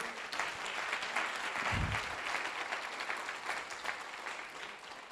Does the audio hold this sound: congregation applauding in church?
yes